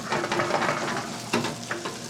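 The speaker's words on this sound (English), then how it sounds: "I'm gonna put my butter in. And I'm just gonna whisk it in there." Butter whisked into rice in a hot pan off the flame, giving close scraping stirs and soft sizzling with a few sharper clinks of the whisk against the pan.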